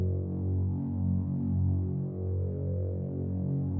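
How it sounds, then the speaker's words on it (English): A Reese-style synth bass made in Faceplant serves as background ambience, a dense low droning hum with slow throbbing phaser-like swells that stays steady throughout. "it's kind of a Reese thing in the background,"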